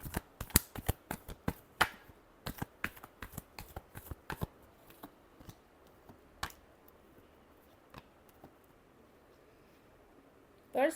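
Tarot cards being shuffled by hand, a long run of quick, crisp riffling snaps close up, bunched in bursts with short pauses and a last flurry at the end.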